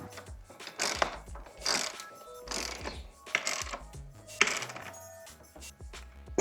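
Bolt on a T-Rex Racing frame slider bracket being tightened on an Aprilia RS 660 motorcycle, giving a series of close ratcheting clicks and metallic tool clinks in uneven bursts, with no talking.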